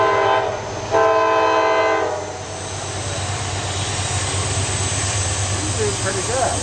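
A CSX freight train led by a GE Dash 8-40 locomotive sounds a loud horn nearby, then rumbles past with a steady low drone and wheel clatter; people talk briefly over it.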